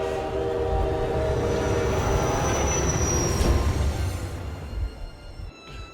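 Train running in the Metro Exodus video game: a loud rumbling rail carriage with a rolling, clattering low end, whining wheel and horn-like tones layered over it, easing off near the end of six seconds.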